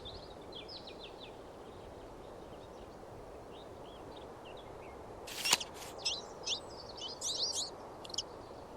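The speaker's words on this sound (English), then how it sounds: "This bird's call is said to sound like a toy trumpet." Trumpeter finch calling outdoors: faint high chirps over a steady background hiss, then after a sharp burst a brighter run of quick, clustered buzzy trumpet-like notes, alone and fairly distant.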